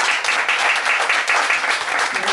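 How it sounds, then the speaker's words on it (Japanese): Audience applause fills the room at a singer's mini live and fan-meet event, a dense, even patter of many hands clapping steadily, close and loud with no voices over it. "お客様からお決まりの拍手をいただいているような、そんな気がしますけど"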